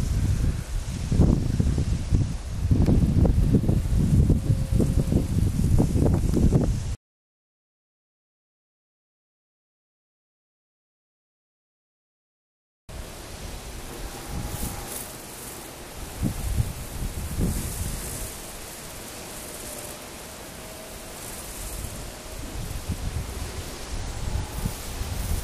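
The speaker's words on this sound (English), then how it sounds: "we got a pretty good lightning storm going on here. A nice little storm with some good wind going through." Wind rushes and rustles steadily outdoors during a lightning storm at an off-grid solar and wind setup. The sound cuts out for several seconds midway, then the continuous gusty noise resumes.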